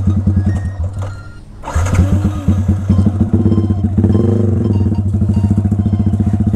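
Suzuki GSX150R sport motorcycle engine running close by, idling with a steady low throb, then revving up in a series of quick throttle blips before settling into a busy, pulsing idle.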